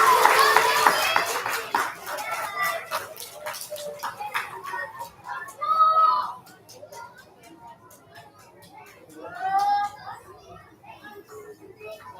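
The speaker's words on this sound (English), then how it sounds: "Let's give our bus recognitions a final round of applause." An elementary school audience claps for students at a bus recognition, with a burst at the start that thins into scattered claps, while children chatter and voices rise in short bursts.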